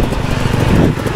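Motorcycle engine running steadily during an endurance race, a continuous loud low drone with no break.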